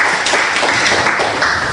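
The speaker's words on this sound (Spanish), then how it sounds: "a la palabra de Dios le damos un fuerte aplauso" A church congregation gives strong applause, a dense, steady wash of clapping filling the room, close and loud for its short length with no voices on top.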